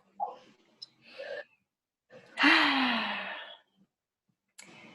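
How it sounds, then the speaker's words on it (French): A person draws a long, deep breath in during a guided breathing exercise, a strong rising inhale between softer breaths, close and otherwise quiet. "Prenez une grande inspiration."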